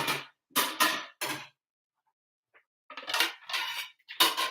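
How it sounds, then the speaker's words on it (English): A plate set down beside freshly baked high-protein chocolate chip cookies cooling from the oven: sharp clattering clinks of dishware in a quick cluster, a pause, then another burst of knocks and rattles, close and fairly loud with no talking. "you get yourself a plate to put them on so they don't burn"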